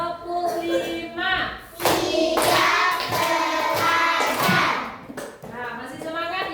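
A class of children clapping a patterned rhythm in unison, a run of sharp claps mixed with children's voices, with a teacher talking before and after.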